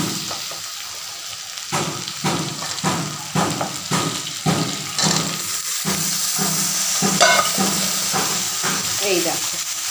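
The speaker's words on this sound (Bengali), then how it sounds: "আলুর সাথে পোস্তটা বেশ সুন্দর ভাজা ভাজা হয়ে গেছে" Potatoes and poppy seeds fry in a pan with a steady sizzle, while a spoon stirs and scrapes them in repeated close strokes throughout.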